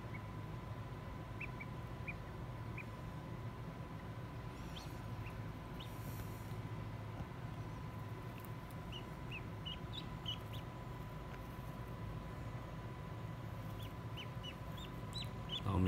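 A newly hatched duckling, about an hour old, gives faint, high, repeated peeping calls in short bursts. A steady low hum and a constant electrical tone run underneath in a quiet indoor setting.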